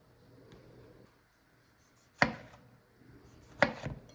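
A knife dices tomatoes on a cutting board for a salad, landing two sharp, separate chops more than a second apart over a quiet, low background hum.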